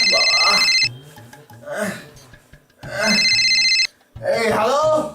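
A telephone rings in two loud, buzzing bursts about two seconds apart, each lasting close to a second, while someone talks in between the rings.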